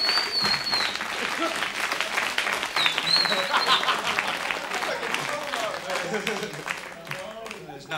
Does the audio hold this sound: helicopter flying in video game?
no